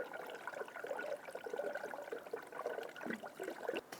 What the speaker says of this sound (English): So keep filling the coolant